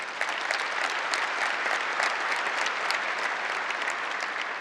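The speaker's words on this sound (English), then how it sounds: "So another round of applause for them, please." Dense, steady audience applause filling a large general-session hall at a Las Vegas tech conference, many hands clapping at once, loud and continuous throughout with no voices on top.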